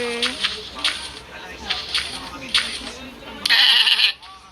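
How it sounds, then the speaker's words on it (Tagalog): Goat bleats from the Minecraft video game, several short bleats repeating at a steady rhythm, then a louder burst near the end, heard under quiet talk. "Di ba kambing yun?"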